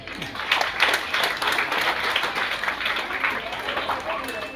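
Children and adults in a crowd clap for a prize winner at a kids' drawing competition in a shopping mall, a steady mid-level patter of many hands filling the space without pause.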